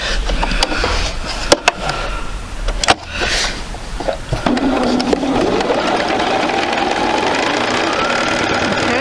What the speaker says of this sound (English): Okay, so let's go sew 1/4 of an inch.